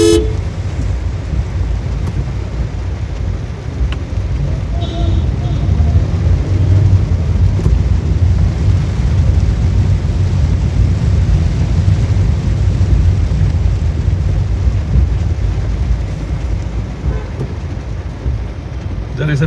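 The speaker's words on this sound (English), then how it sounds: "It's also raining." Heavy rain during a drive through Virajpet town toward Mysore makes a continuous dense hiss, blended with a loud, steady rumble of the vehicle and road throughout.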